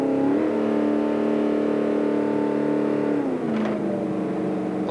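Jetsprint boat engine revving hard at about 5,000 rpm while racing across shingle, a loud continuous droning roar that holds steady then drops in pitch, heard alone without talk.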